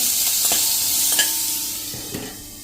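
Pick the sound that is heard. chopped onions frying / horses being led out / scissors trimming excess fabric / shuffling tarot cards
chopped onions frying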